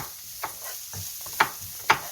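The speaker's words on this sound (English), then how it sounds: "Let me do the stirring" A spoon stirs pumpkin and onions in a pot for soft tofu stew over a low sizzle, with three or four soft scraping strokes close by.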